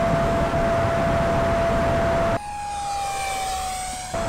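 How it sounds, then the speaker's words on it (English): A small RC jet plane makes a low, full-throttle pass, its steady high whine holding a constant pitch that shifts partway through and then eases as it goes by, with broad engine roar beneath and no talking. "Let's go for a low pass here, full throttle, and see what it can do."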